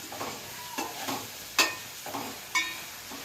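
Ginger garlic paste stirred in a hot pan, a few scraping strokes of the spoon close by with a faint sizzle underneath, several distinct scrapes spread evenly across the moment.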